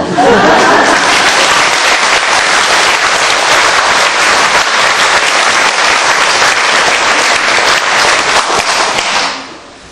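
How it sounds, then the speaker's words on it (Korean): Sustained applause from an audience at a Buddhist dharma talk, loud and dense for nearly ten seconds before fading quickly at the end. "우리 스님까지 박수 치죠"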